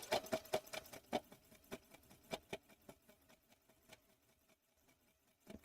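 An embroidery sewing machine stitches down a fabric-wrapped rope edge, giving quick rhythmic needle taps that start loud and fade softer over several seconds, with no talking.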